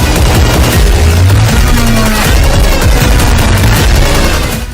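Heavy, loud blasts and rapid gunfire-like bangs from explosions in Gaza crowd together in a dense, distorted barrage that rumbles on throughout.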